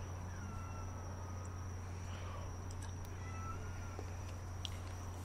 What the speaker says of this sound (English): I got cats out here fighting.